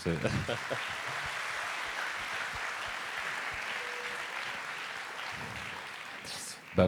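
An audience applauds at a national eloquence competition final: steady, dense clapping that holds for the whole stretch at a moderate level, with voices speaking over it.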